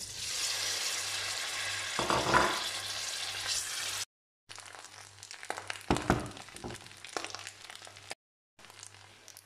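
Garlic frying in a pan for fried rice with shrimp gives a soft, steady crackling sizzle, fairly quiet, broken by brief cuts and occasional stirring clatter.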